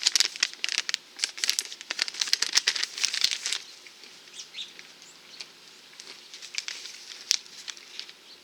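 A resealable snack bag of hot and spicy almonds is handled close up, with crisp crinkling and rustling plastic that is busy at first and then settles into sparser, quieter crackles.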